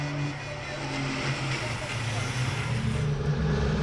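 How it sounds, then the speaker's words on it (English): European Truck Racing trucks roar together toward the first corner at a race start, a steady dense engine drone close by, with a commentator talking over it. "The trucks on their way to the first corner."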